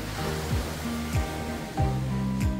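Steady rush of surf with waves breaking on shore, a low constant wash of water under a repeating tonal drone.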